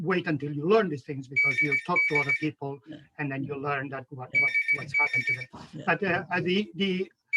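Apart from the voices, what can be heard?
telephone ringing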